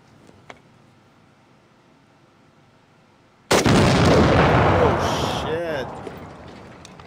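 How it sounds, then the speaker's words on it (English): A sudden, very loud weapons explosion bursts out after a quiet stretch, then a roaring blast and debris rumble slowly fade, with voices heard around it. "Let's get a nice big explosion,"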